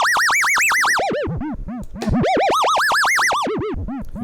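MRB Zeroscillator module in Voltage Modular, a synth tone whose envelope repeatedly sweeps pitch up and down in bouncing arcs, loud and continuous with no talk.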